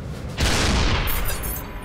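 Tank gun fire in a battle, a single heavy boom with a rolling, rumbling tail over constant loud battlefield noise, lasting under two seconds with no talk.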